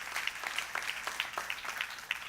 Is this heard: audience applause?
yes